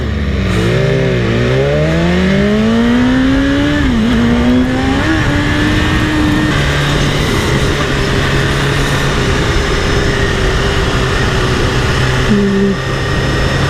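A BMW S1000RR superbike engine roaring up through the revs, loud and continuous, with a rising and falling whine as it accelerates and shifts, sustained under strong wind noise.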